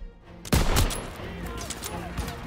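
Gunfire in the Call of Duty: WWII shooter, a heavy burst starting after a half-second lull and then a steady roar of sustained shots and explosions around a defended stairway, loud and close.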